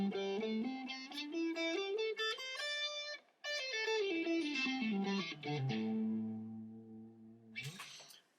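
Electric guitar with effects running a pentatonic scale pattern, a quick ascending and descending run of distinct notes ending on sustained tones, close and clear with no voices.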